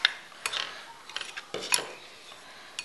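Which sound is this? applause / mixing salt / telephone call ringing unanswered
mixing salt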